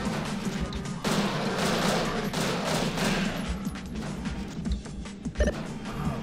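Dense, continuous gunfire and crashing impacts from the arcade game Judge Dredd vs. Death, a loud sustained barrage with a few sharper bursts near the end.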